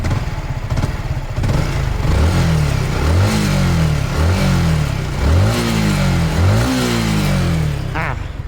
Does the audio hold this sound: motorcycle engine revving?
yes